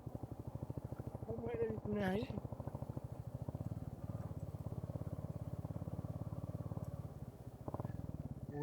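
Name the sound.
motorcycle chain rattling while riding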